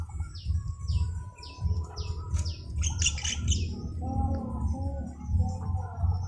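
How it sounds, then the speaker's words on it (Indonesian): Several common mynas squawk and chirp in quick, repeated bursts close by while being fed by their parents, with high chattering calls over a steady low rumble in the background. "sekarang saya akan memvideokan bagaimana jalak kebo memberi pakan anakannya"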